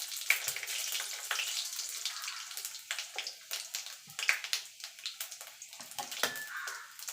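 A whole dried red chilli and panch phoron fry in hot mustard oil, giving a steady, faint sizzle punctuated by small crackles and pops from the spices.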